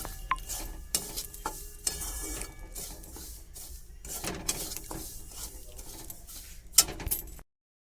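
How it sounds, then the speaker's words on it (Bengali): Dry semolina is stirred and lightly roasted in a pan, giving irregular scraping and clattering strokes of a spoon against metal at close range, with a few sharper knocks and no talk over it. "সেই গন্ধটা কাটানোর জন্য হালকা করে সুজিটা ভেজে নেব"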